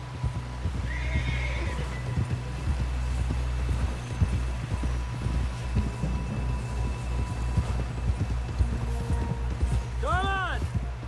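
A horse in Red Dead Redemption 2 clip-clops and whinnies, the hoofbeats steady and close beneath urgent voices and a low rumbling score, with a loud neigh near the end.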